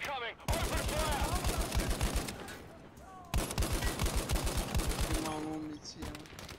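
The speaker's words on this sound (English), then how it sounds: "Extraction zone! Enemy incoming! Open fire!" Rapid bursts of video game gunfire, a fusillade of shots crackling in dense repeated volleys with a brief break midway, loud and close, mixed with game voice callouts and effects.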